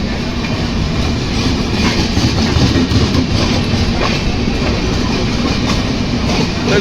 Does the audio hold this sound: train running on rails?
yes